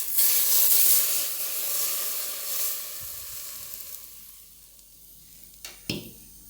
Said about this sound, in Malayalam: ഇനി നമുക്ക് ഫ്ലെയിം ഓഫ് ചെയ്തിട്ട് നമുക്കിനി ഈ തിളച്ച എണ്ണ അതിലേക്ക് മാങ്ങയിലേക്ക് ഒഴിക്കാം